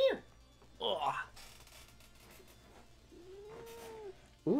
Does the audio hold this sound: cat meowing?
yes